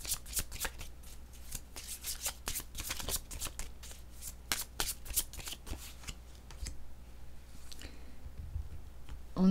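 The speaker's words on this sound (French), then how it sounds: "Ça sera pas long, le temps de placer mes cartes." Tarot cards are shuffled by hand in quick, crisp riffling bursts close up, with sharp flicks and slaps as they are laid out, then a soft shuffle trailing off.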